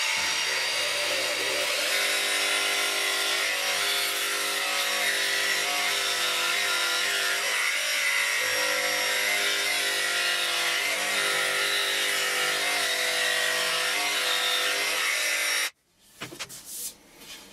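A circular saw machine cuts through a wooden blank, a loud, steady broadband whine running continuously for about sixteen seconds before stopping abruptly, followed by a few short clattering knocks.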